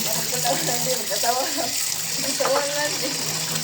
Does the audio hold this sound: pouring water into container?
yes